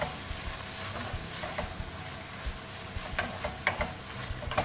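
Minced beef seasoned with salt and pepper fries in a pan for chilli con carne, a low steady sizzle broken by repeated scraping and clacking of a spoon stirring, close and without talk.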